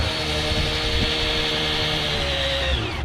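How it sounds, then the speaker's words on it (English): A power drill whines steadily under a rough mechanical rumble, priming the oil pump of a small-block Chevrolet engine, its pitch holding then dropping near the end as the load changes. "Got the drill on, and we'll prime it and run it for a little bit"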